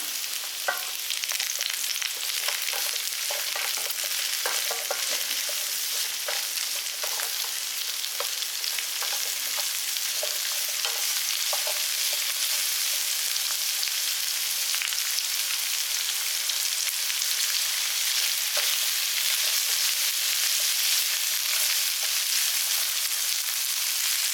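Onions sizzle and sauté in a hot pan, a steady crackling hiss with faint stirring scrapes throughout.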